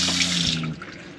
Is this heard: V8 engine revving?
no